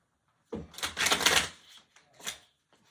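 A brief burst of riffling tarot cards being shuffled close by, a dense papery flutter followed by a shorter second riffle.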